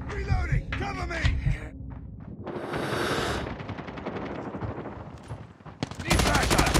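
Rapid automatic gunfire from Call of Duty Mobile rattles through a busy game mix, with short radio-style voice callouts at the start, bursts of shooting, and a loud sustained burst at the end.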